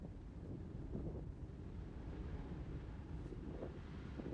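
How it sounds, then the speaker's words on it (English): Strong wind gusts steadily across a campsite in Colorado, a continuous low roar buffeting the microphone with no break for the full length and no talk over it. "The wind is so strong."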